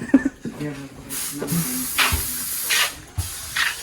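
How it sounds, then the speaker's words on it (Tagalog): Several short hissing sprays from a spray bottle, spaced a second or so apart, with people talking in between. "Spray."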